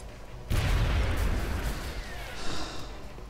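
A needle grenade goes off in XCOM: Enemy Within with a sudden loud blast, followed by a long rumbling, crackling tail and a second swell of debris noise near the end.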